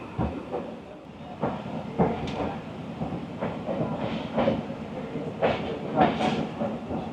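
The Rawal Express rumbles as it slows at Wazirabad Junction, a low continuous rolling noise broken by repeated wheel clacks and bumps, with brief faint voices nearby.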